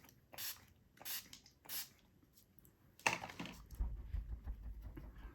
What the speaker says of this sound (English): I will do my trusty setting spray,